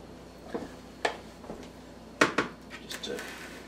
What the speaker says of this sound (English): Now we're just going to do a tiny bit of stirring in here.